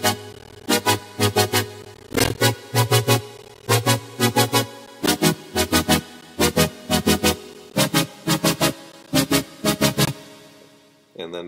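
Synth pattern run through an LFO, compressor, low pass filter and reverb, playing loud repeating chopped bursts in a steady pulsing rhythm with a deep bass layer, then a reverb tail at the end.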